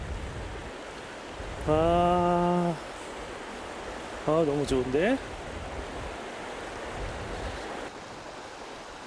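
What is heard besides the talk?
flowing water of the Seomjin River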